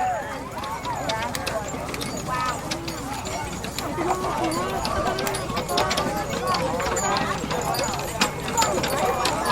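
Horses of a horse-drawn artillery battery at a Gettysburg battle reenactment clip-clop steadily on the ground at close range, with continuous overlapping hoofbeats under people talking throughout.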